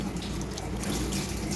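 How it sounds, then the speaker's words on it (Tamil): Basmati rice is rinsed in water at a sink, a steady close swishing and splashing with running water that continues evenly throughout. "ஸோ நம்ம இப்போ அரிசியை கழுவிக்கிறோம்."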